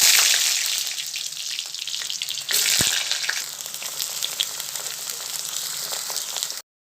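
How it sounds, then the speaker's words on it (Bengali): Pointed gourd (potol) slices fry in hot oil with a bright, steady sizzle, a single sharp knock near the middle, and an abrupt stop at the end. "প্রথমে পটলগুলো ভেজে নেব।"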